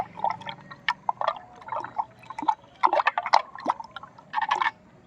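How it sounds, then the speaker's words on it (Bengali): A spoon stirring jaggery into water and waste decomposer in a pot, giving soft irregular sloshes, drips and light clinks against the container, close and fairly quiet, with no voice. "এরপর এটাকে আমরা একটু এভাবে চামচ দিয়ে নেড়ে দেবো"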